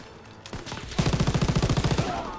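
Rapid machine gun fire in the Call of Duty WW2 beach-storming chapter, a sharp burst of evenly spaced loud shots rattling for over a second, preceded by a few scattered shots.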